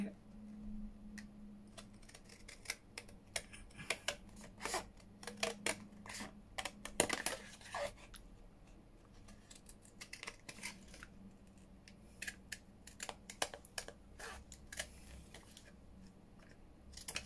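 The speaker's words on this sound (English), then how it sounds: "we'll cut the tag out." Scissors snipping out a paper tag, a quiet series of irregular sharp clicks and cuts close by, clustered in bursts with short pauses between.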